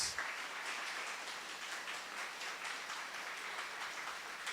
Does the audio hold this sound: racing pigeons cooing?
no